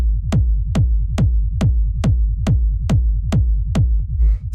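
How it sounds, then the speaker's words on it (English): Hard techno kick drum hitting in a steady four-on-the-floor pulse, about ten punchy booming thumps with long low tails, loud and alone. "So this is a pretty standard sort of like hard techno kick."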